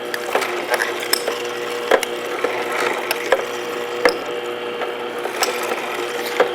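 A Green Star juicer grinds broccoli, giving a steady mechanical whir broken by repeated sharp cracking and snapping clicks at an uneven rhythm, fairly quiet with no talking.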